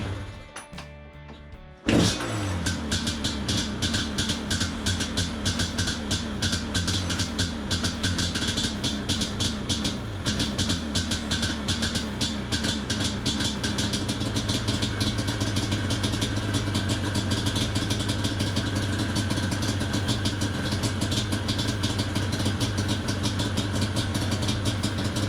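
A Yamaha Banshee 350 ATV engine starts after a short pause, then runs in a fast, rattly two-stroke putter held on the throttle, loud and near, with no talking heard.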